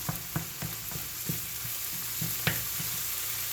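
Ground meat for stuffed peppers sizzles steadily in a pan while a spoon or spatula scrapes and chops through it, giving regular dull taps and scrapes over the constant frying hiss; close and no talking.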